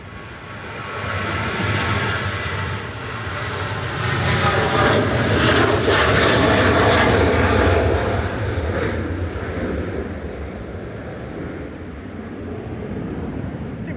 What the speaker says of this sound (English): TV732 to Agadir departing there, 737-800 GFD ZS